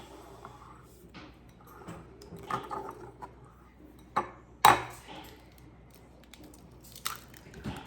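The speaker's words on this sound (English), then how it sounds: "So I have this separate bowl that I'm going to crack the eggs in." Three eggs cracked one by one into a separate bowl while baking at home, giving a few sharp, close taps and crunches of shell with soft kitchen clatter between them.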